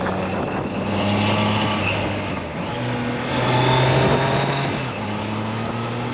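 A loud Triumph Trident 660 three-cylinder motorcycle engine hums steadily, with a brief throttle blip partway through and a sustained note that swells and settles, echoing across a mountain valley in Dehradun.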